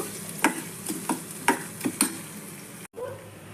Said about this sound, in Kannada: ಹಾಗೆ ಈರುಳ್ಳಿ ಹಾಕಿ ಬಾಡಿಸ್ಕೋಬೇಕು